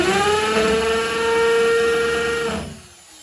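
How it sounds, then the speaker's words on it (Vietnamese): A Russian-made 220 V electric drill, apparently old and unlabelled, runs in its wood-drilling mode with a steady, loud high-pitched motor whine that holds for about two and a half seconds and then winds down. "Đây là khoan gỗ đây."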